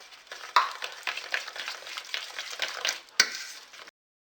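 Cauliflower florets coated in an egg mixture fry and sizzle in a pan, with a steady crackle, stirring scrapes and a sharp clack of a utensil near the end; no talking.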